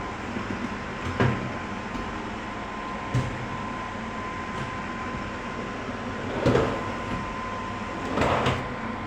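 Soft-close hydraulic drawers on a hanging kitchen cabinet shut with muted thuds, four gentle closes spread over several seconds above a steady background hiss.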